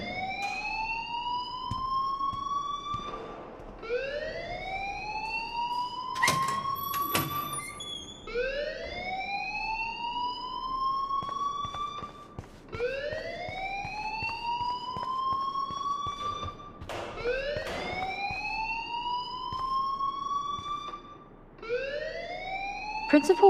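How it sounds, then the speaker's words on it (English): The school fire alarm in the video game Life is Strange wails in a repeating rising siren sweep, about eight cycles, loud and continuous, with brief sharp noises mixed in. "please turn off that alarm since that's your job"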